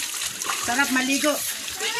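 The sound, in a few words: water splashing while bathing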